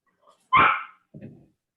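A small dog gives one sharp, close bark followed by a softer, lower yip a moment later, in an otherwise quiet indoor space.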